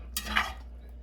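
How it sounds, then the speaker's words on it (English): A utensil scrapes and clinks briefly against a dish while cheesy potatoes are mixed, one short clattering stir close by with no talking. "You can mix them up."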